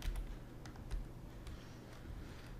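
Keys clack on a computer keyboard in a short, irregular run of close, soft taps that stands alone over a low background hum for under three seconds.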